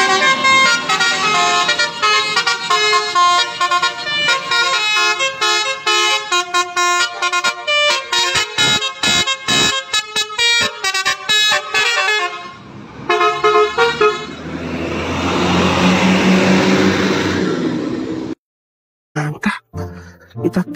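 A Pandawa Herbi bus sounds a loud, close musical horn in long repeating melodic phrases, then the tune breaks into short blasts followed by a rushing roar and brief silences.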